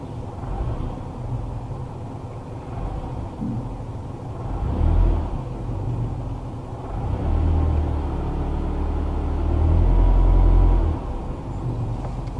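A car engine idling at low RPM with the transmission in drive, during a MAF sensor diagnosis: a steady low rumble with a few slow swells in loudness, heard alone without talk.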